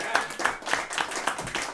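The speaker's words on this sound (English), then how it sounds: "Would you please give a great big round of applause for your engineer for tonight?" A small audience at a home concert claps for the sound engineer, giving sparse, rhythmic handclaps with a few distinct strikes, fairly close and moderate in volume.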